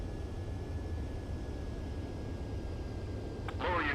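An airplane in a video game comes in to land with a low, steady engine drone, and a brief electronic cue sounds near the end.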